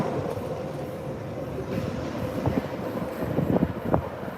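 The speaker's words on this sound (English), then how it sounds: "these subway cars right here, these are the former Soviet era subway cars" A refurbished Soviet-era subway train on line A of the Prague Metro rumbles steadily nearby, its wheels clattering over the rails with a few sharp metallic clicks toward the end, and no voices.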